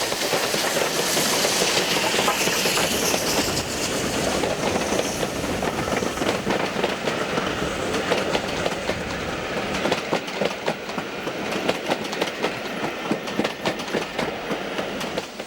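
Steam locomotives 76079 and 75014 double heading a train on a heritage railway, a loud, continuous rumble and clatter of wheels and exhaust passing close by.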